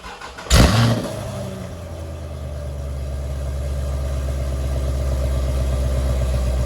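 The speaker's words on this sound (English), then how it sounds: "Me and Alex are going to hop in the ZR1 and we are going to head to Bristol, Tennessee to pick this guy up." A Corvette ZR1 engine starts with a sharp burst, then settles into a steady, close, continuous drone that builds slightly as the car drives toward Bristol, Tennessee, with no talking.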